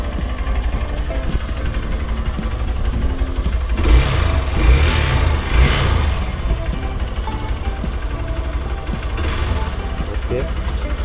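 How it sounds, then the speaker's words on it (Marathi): A motorcycle idles steadily after a cold start. The low, continuous engine rumble swells briefly a few times midway and then settles back to an even idle. "चला तर मग कोल्ड स्टार्ट आपली झालेली आहे बाईक"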